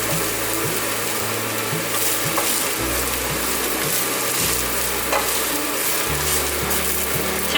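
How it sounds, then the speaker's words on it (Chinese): Shiitake mushrooms stir-frying in a wok with ginger, a constant dense sizzle close up and loud, joined by a low mechanical hum and scraping from stirring. "现在放入香菇炒香"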